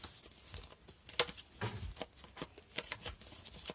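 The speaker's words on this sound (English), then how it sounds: "I'm going to finish up here shuffling" A deck of tarot cards is shuffled close up in a quiet room, with soft repeated riffles and flicks in quick irregular bursts.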